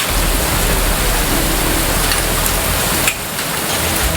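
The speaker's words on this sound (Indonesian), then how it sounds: "Hujan deras disertai angin kencang dan butiran es terjadi di wilayah Menteng, Jakarta Pusat." Heavy rain with hail and strong wind in Menteng, Central Jakarta pours down as a dense, constant roar, loud and close, easing slightly toward the end, with no voices.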